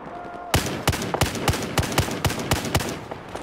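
A Barrett .50 caliber rifle fires about eight loud, sharp shots in a steady, fairly quick rhythm, each a hard crack with a booming tail, after a short quiet lead-in.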